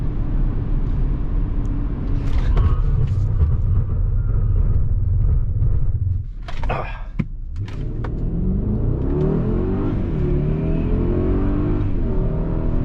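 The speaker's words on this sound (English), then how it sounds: "you ready for our 70 mile per hour brake test?" A 2021 Mercedes-Maybach GLS600 in a 70 mph brake test, a loud steady road and engine rumble that dips sharply with a burst of tire and brake noise, then the engine climbs again as the SUV accelerates away.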